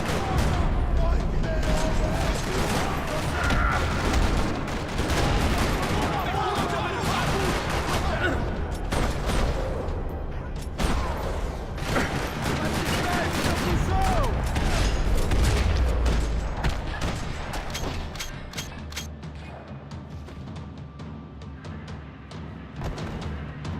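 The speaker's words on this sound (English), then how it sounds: "Another parking lot rattling with gunfire." Sustained gunfire fills a parking lot in Max Payne 3: dense rattling bursts and booming shots overlap loudly for most of the stretch, thinning slightly toward the end.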